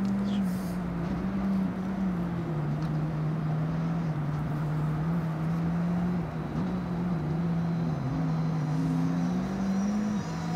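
A Skoda Fabia R5 or Mercedes-Benz C43 AMG engine hums at a steady low pitch with slight rises and dips in revs, continuous and fairly close, with no talking.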